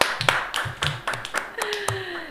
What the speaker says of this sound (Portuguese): Vamos aplaudir o Matheus?